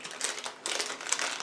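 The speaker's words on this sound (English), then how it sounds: "Just going to cut it open with my trusty scissors." Scissors snipping open a plastic snack package of small round baked crackers, heard as close crinkly cuts and plastic rustling in a few quick bursts, with no talking.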